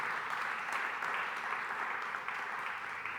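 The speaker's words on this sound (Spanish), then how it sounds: "Eso merece un aplauso al Señor." Congregation at a church service applauding together, a steady wash of dense clapping and cheering that stays even throughout with no talk over it.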